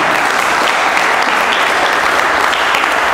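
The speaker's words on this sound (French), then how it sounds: "Ouais, on applaudit." Audience applause fills an abbey hall during a talk, a dense, steady clapping from a sizable crowd, loud and continuous throughout with no voices over it.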